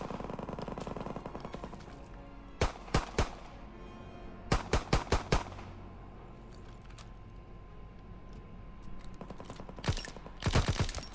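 Gunfire in the World War II shooter Call of Duty WW2 comes in several sharp bursts of rapid shots spaced across the stretch, fairly close and punchy over a low game background.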